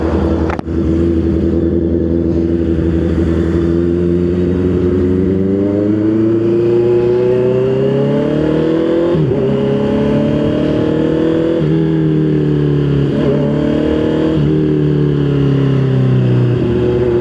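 A Honda CB650 big bike engine while riding, a loud continuous drone that rises and falls in pitch with shifting revs and throttle changes, close and steady with no talk.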